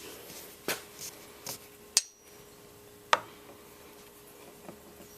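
Hammer taps seating a door lock grommet into a 2004 Volvo XC90 door: a few sharp, separate metallic knocks spaced about a second apart, fairly close, with no talking over them.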